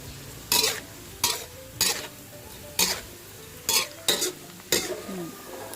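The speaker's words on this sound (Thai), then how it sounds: "เวลาตอนที่เราทอดปลาเนี่ยนะคะ มันจะไม่เป็นฟองขาวๆขึ้นมาเลยค่ะ" Small fish deep-frying in hot oil, with several sharp, loud bursts of stirring and clattering against the pan over a steady low sizzle.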